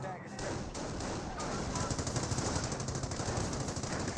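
A .30 cal machine gun fires in the WWII strategy game Company of Heroes: a steady, rapid rattle of shots runs under a dense, loud battle mix for the whole stretch.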